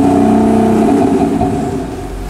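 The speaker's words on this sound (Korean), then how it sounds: "이 차량 액티브 사운드 배기음 듣고 가실게요." A 2018 Audi A7 55 TDI quattro with an active sound exhaust system gives a loud, close, steady droning note with a strong low hum that eases off slightly toward the end.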